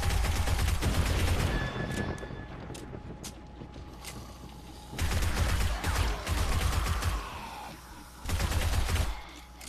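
Sustained gunfire during a zombie horde in the video game 7 Days to Die (Alpha 21), loud rapid bursts of shots with brief lulls between heavy volleys, layered with game ambience.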